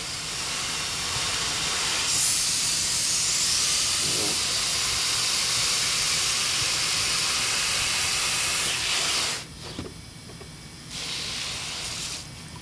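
Water rushes in a steady, loud hiss while it rinses material into a gold pan, running continuously for several seconds before dropping away abruptly near the end and returning faintly.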